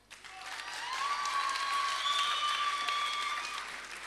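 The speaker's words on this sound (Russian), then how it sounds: "Аплодисменты, дорогие друзья" A concert audience claps steadily, applause rising quickly and holding at moderate level, with a sustained tone, likely from music or a microphone, ringing faintly above the clapping throughout.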